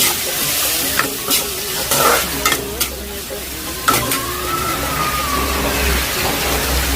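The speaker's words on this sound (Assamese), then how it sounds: "এতিয়া মই বিলাহীখিনি দি ভাজি ল'ম।" Tomatoes frying in oil in a pan, a loud continuous sizzle with a handful of sharp spatula scrapes and taps against the metal, close up.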